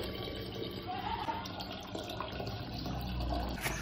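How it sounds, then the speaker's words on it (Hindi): Tap water filling a container for a fighter fish tank, a continuous close splashing rush of running water that swells slightly louder toward the end, with no talking. "पानी भर के आते हैं और इसमें फिर अपनी फाइटर फिश शिफ्ट करते हैं"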